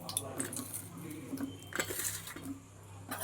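A utensil stirs cumin, nigella seeds, bay leaves and a dried red chilli in oil in a pan, giving quiet, irregular metallic clinks and scrapes close by over a faint background.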